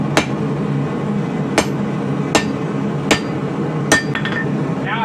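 A hammer strikes a railroad steel sword blade being forged, five sharp ringing blows spaced about a second apart over a steady background hum, close and loud.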